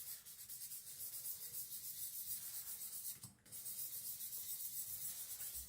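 Victorinox Chinese cleaver being thinned and sharpened on a stone, quiet rhythmic rasping strokes repeating steadily, with a brief pause just past the middle before the scraping resumes.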